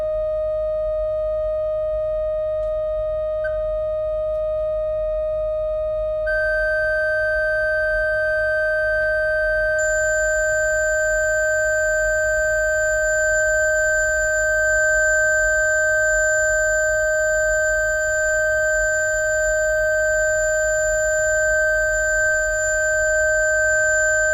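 Three organ pipes sound sustained, steady pure tones recorded as samples; one tone holds throughout while more pipe tones enter partway and layer over it, above a low background rumble.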